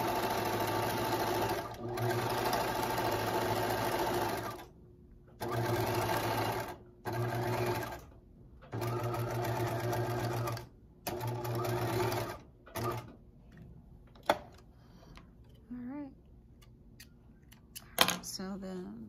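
A sewing machine stitches a zigzag seam finish on fleece in steady bursts of whirring, stopping and starting several times before going quiet, with a few handling clicks near the end.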